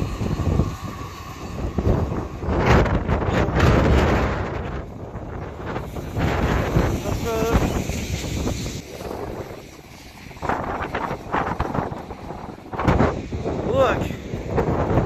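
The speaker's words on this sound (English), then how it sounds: "Look at that wind as well." Strong gusting wind on the seafront at Scheveningen in the Netherlands buffets the microphone with loud, rumbling roars in waves, as people outdoors talk and exclaim over it.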